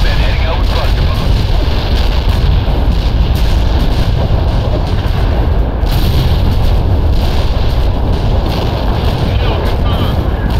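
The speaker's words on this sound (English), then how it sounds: "Wilco, Iceman heading out with cluster bombs" Continuous heavy rumbling booms from cluster bomb strikes in World in Conflict, a dense unbroken barrage of low explosions with crackling detonations layered throughout.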